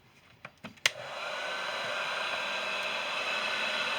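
A heat gun blows hot air onto a frayed iPhone cable, starting after a few light clicks and settling into a steady, close whooshing roar that runs to the end.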